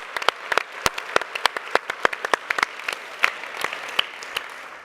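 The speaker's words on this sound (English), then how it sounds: "Let's have another round of applause for" A seated audience at the 2017 Culture of Health Prize celebration gives a round of applause: scattered, moderately distant claps with uneven rhythm and no voices.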